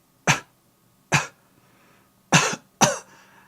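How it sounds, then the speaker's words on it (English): A guard on a barge coughs in four harsh, racking bursts, close and loud, separated by short silent gaps. "it becomes more of a racking cough"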